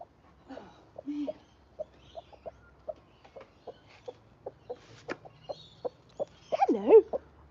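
Backyard chickens make a steady run of short, soft clucks, about two each second, with a louder, warbling call at the end. A person briefly speaks near the start.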